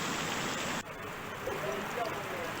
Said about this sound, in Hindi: ओले देखिए, ओले